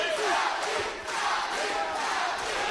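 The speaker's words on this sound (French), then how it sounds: "Toute la foule du Palais des Sports de Levallois qui le soutient maintenant" Crowd at the Palais des Sports de Levallois roaring and cheering a boxer in the 12th round of a WKA full-contact world championship bout, a dense, sustained wall of voices that dips briefly before swelling again.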